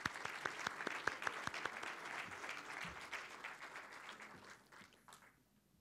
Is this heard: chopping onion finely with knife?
no